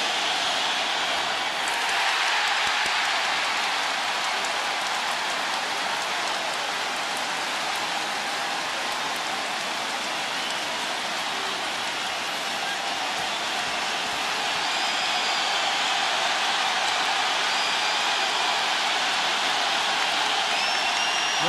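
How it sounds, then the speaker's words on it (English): Basketball arena crowd at an NBA Finals game roaring continuously, a dense wash of screaming and cheering at steady loudness that swells slightly near the end. "With the crowd screaming"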